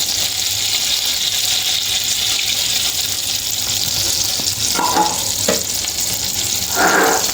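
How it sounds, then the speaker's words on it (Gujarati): Butter and oil heat in a pan for pulao tempering, making a loud, continuous close-up sizzle with a few brief clinks near the end. "તો સૌપ્રથમ આપણે બટર એડ કરી દઈશું અને એમાં આપણે થોડું તેલ એડ કરી દઈશું"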